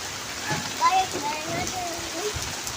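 Steady rain hisses across the whole clip, with people talking and calling out over the downpour.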